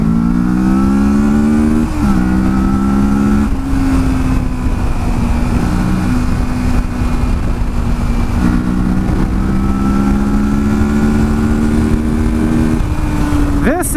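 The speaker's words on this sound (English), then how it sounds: "This is a stock Euro 4 exhaust. It sounds absolutely lovely." A 2018 Kawasaki Versys 650 motorcycle with its stock Euro 4 exhaust hums close by, its engine note rising and settling through several revs, loud and steady throughout.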